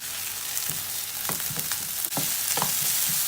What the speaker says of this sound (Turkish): Salçamızı iyice bir kavuruyoruz.